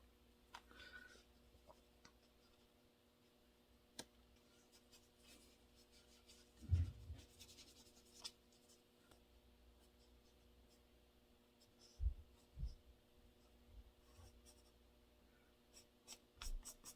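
A Stabilo pencil drags across damp paper in soft, faint scratchy strokes, with occasional light taps and a few louder thumps against a quiet hum, with no talking.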